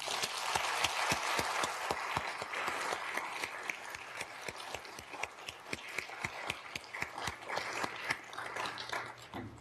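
Scattered clapping at a staff leadership welcome as a standing employee is honored; distinct individual claps rather than a dense roar, fairly quiet and slightly distant, continuing at an irregular pace.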